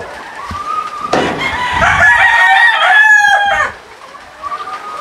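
Gamefowl roosters in a breeding pen crow loudly and close by, one long crow overlapping another, with clucking before and after.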